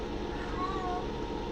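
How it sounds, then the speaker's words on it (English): A cat gives a single short, faint meow against a steady background hum, with a person talking nearby. "and even my kitty cat agrees"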